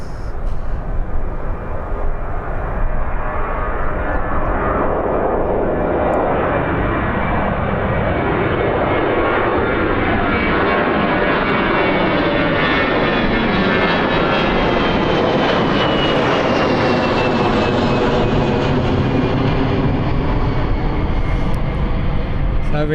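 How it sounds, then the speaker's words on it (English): Ryanair passenger jets at Birmingham Airport, with loud, steady engine roar that swells and shifts in pitch as an aircraft passes close by, filling the whole stretch with continuous broadband jet noise. "Scotland's finest waiting to depart, Ryanair waiting to depart, and we have Ryanair coming in from Malaga."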